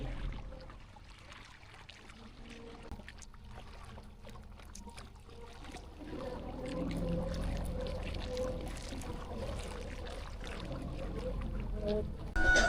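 A houseboat cruises on the Alappuzha backwaters in Kerala, its low steady engine drone and water wash continuing throughout, growing slightly louder midway, with faint background sounds.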